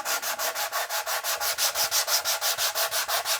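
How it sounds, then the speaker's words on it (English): Sandpaper rubbing paint off a Stratocaster guitar body in quick, even back-and-forth strokes, a steady scratchy rhythm of roughly six strokes per second, close and alone. "if I kind of was to sand on that just a little bit more"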